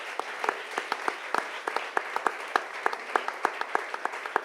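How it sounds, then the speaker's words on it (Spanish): An audience at an activist school event applauds its guests with a moderate patter of distinct hand claps, fairly close and steady, with no talking over it. "les pido un fuerte aplauso para los y las invitadas"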